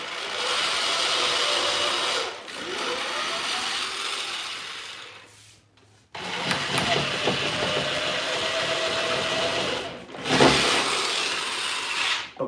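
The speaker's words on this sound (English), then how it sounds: "So I'm just going to take the drill and give myself a little countersink here. Well, a pilot hole." Electric drill boring a pilot hole into the wood of an old entry table under repair, loud close whirring and grinding in bursts with short pauses between runs, no voices heard.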